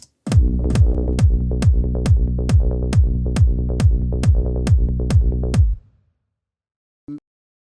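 A punchy electronic kick drum thumps in a steady four-on-the-floor beat with a deep bass tone, loud and clean, then stops abruptly, followed by one short blip.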